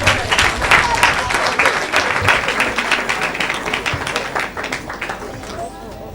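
Crowd applause at a church gathering, a dense field of many hands clapping steadily for the full six seconds, loud and close, with voices mixed into the din.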